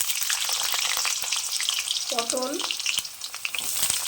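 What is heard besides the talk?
potatoes frying in hot mustard oil in a wok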